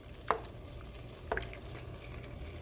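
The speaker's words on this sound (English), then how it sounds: "that's going to all simmer and thicken and finish cooking the sausages" Sausage meatballs simmering in an onion-apple gravy in a pan, a low bubbling sizzle with a couple of brief stirring clatters, faint and close.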